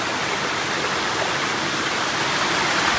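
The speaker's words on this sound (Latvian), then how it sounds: "Bet ūdens kritums uz leju." Mountain waterfall pouring downhill in hot desert country, a steady, loud, broadband rush of falling water heard up close and alone, without voices.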